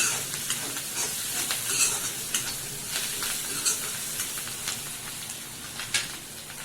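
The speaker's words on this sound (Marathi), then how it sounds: "थोडीशी कोथिंबीर परतून घेऊया" Coriander leaves are sautéed in a pan, making a continuous crackling sizzle with light stirring scrapes throughout and no one talking.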